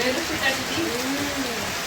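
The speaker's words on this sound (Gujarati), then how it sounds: "જો તમને વરસાદ આવી રહ્યો છે ફૂલામ ફૂલ" Heavy rain falling on a flooded village, a steady close patter and wash of water, with a voice talking over it.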